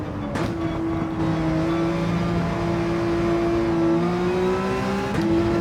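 A car engine in Gran Turismo climbs steadily under growing throttle, a loud, close, sustained drone whose pitch rises smoothly and then resets with a brief break near the end, as in a gear change.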